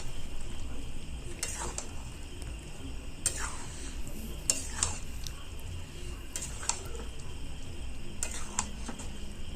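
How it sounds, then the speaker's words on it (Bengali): A utensil scrapes and stirs peas and potatoes in a metal wok in repeated strokes every second or two, over a low steady background hum. "এবার আলুর সাথে ভালো করে মটরটা মিশিয়ে নেব নাড়াচাড়া করে।"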